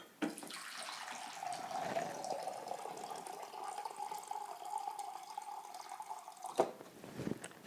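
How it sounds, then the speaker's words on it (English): Distilled water poured into a measuring cup, a faint steady trickle with a rising pitch as the cup fills, ending with a couple of soft clinks near the close. "So I'm going to start by taking a cup and a half of distilled water"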